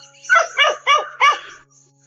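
A stray dog gives four quick, sharp barks in a row, close and loud, with a short quiet pause before and after and no people talking.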